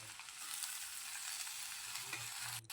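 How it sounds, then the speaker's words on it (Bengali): Roselle fruit petals frying in a pan, giving a steady broadband sizzle with soft stirring scrapes, close and constant, ending in a short sharp clatter. "কিছুক্ষণ সময় এটাকে ভেজে নেওয়ার পর এবার দিয়ে দেব যে চোকা ফলের পাপড়িগুলোকে"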